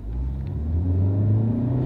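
A small Chevy car's engine revs as it accelerates, a low, close rumbling drone that swells slightly and steadies over a couple of seconds.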